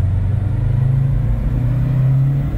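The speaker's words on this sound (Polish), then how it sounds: "No i teraz możemy sobie dać gazu" A Subaru STI with a 2.6-litre engine and stock exhaust revs hard under throttle on a dyno with no load, a loud, close, steady engine drone holding high for a couple of seconds.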